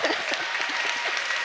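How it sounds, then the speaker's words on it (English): A small audience claps steadily at a book talk, an even patter of hands with faint voices underneath. "There are only short people clapping."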